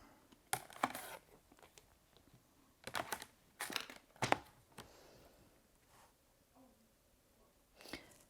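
Rotary cutter slicing through quilting fabric squares on a cutting mat, heard as several brief crisp scraping strokes in quick bursts, close and fairly quiet, with pauses and light handling sounds between cuts.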